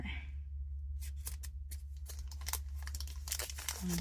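Plastic and paper packaging from a Harry Potter Miniverse miniature toy being unwrapped up close, with a run of crinkling, tearing rustles over a low steady hum.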